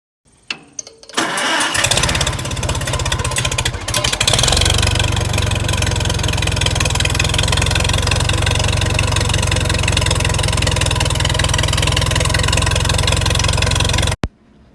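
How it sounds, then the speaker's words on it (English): A tractor engine cranks and catches, then settles into a loud, steady idle that runs without a break before cutting off abruptly. "here is me after we've got the tractor started"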